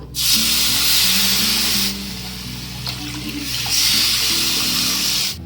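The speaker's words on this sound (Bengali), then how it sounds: "এবার এর মধ্যে দিয়ে দেব এই কাপে 2 কাপ জল।" Two cups of water poured into a pan of roasted semolina, a loud, close rushing pour that eases briefly partway through and then surges again, with no talking.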